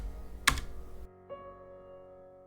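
A short burst of keyboard clatter near the start, then the keys fall silent, leaving a low steady electronic hum.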